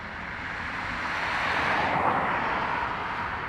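A Ryanair jet departing Dublin Airport for Manchester roars with broad engine noise that swells and then eases slightly, heard at a distance outdoors with faint wind.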